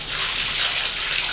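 Cold water runs steadily from a tap into a basin, a continuous close splashing hiss with no voices.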